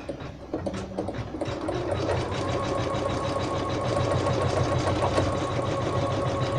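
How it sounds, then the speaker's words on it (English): Embroidery machine stitching a jade-colored design on a bed cover, with a steady fast mechanical whir and rapid needle clatter, continuous and fairly close, with no talk. "it will immediately go over and start sewing the stitching for the bed cover"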